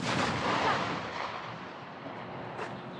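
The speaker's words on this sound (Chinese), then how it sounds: "这个移动靶刚出来，它就短停进行射击了。" A ZBD-08 eight-wheeled infantry fighting vehicle fires its 30 mm autocannon after a short stop at a moving target. One loud, sharp report is heard, followed by a long, rumbling echo that slowly fades.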